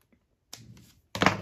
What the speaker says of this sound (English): I'm going to snip these corners while I remember.